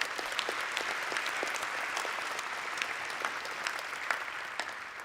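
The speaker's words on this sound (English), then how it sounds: "you should clap yourselves for that" Students applaud at a university entrance ceremony, a steady, dense wash of many hands clapping at an even level through the whole stretch, with no voices breaking through.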